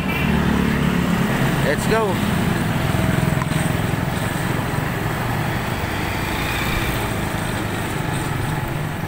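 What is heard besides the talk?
motorcycle riding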